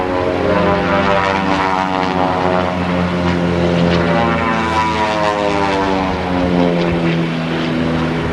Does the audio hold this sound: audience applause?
no